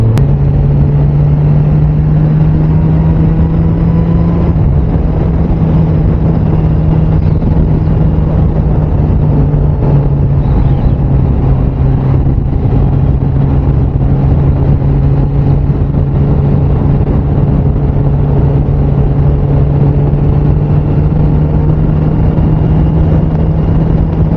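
A steady, loud engine drone runs the whole time with a low humming tone and constant rumble, like a Suzuki Bandit 600 motorcycle cruising along at even speed.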